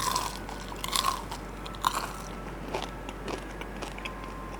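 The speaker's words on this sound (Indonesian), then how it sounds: "tepungnya seatos apa ya, gue gigit nih" Crunchy bites into a hard, salty fried chicken batter crust at a restaurant, a few close, sharp crunching bursts separated by pauses over a steady low background hum.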